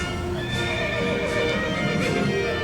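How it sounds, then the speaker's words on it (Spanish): Horses at a hitching post neigh and whinny in several loud, close calls over a steady, dense background. "Y los pingos relinchando los llaman desde el palenque."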